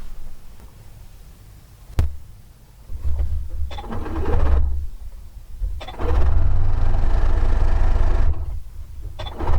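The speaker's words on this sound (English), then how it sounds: "So I'm going to go ahead and sew these two pairs together now." A sewing machine stitches red and white fabric strips together for a quilt, running in short bursts with pauses between, its motor whirring close and steady with no voices.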